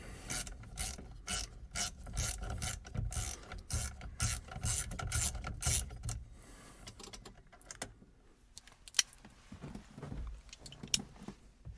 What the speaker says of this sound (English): use a 17 millimeter deep socket to get the bolt out, or the nut out of there